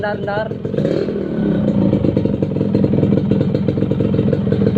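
Engine of a 1992 Yamaha RX King motorcycle with its standard exhaust and a brass filter, running steadily close by with a throbbing mid-range rumble under continuous conversation.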